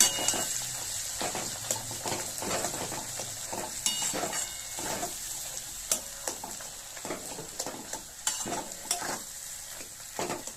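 Boiled potatoes fry in a spice mix in a pan while a utensil stirs them often. The crackling sizzle runs steadily beneath repeated sharp scrapes and clinks against the metal.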